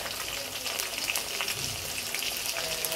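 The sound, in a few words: green chillies and onion frying for chicken khichuri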